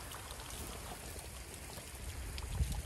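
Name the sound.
water from watering cabbage plants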